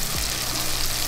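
Calamari and baby octopus fry in hot oil, a dense continuous sizzle and crackle heard up close with no talk.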